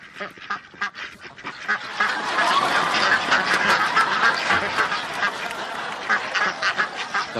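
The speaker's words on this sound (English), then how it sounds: "ducks in the bathroom." A flock of ducks quacks continuously and loudly, many overlapping calls forming a dense, noisy chorus throughout.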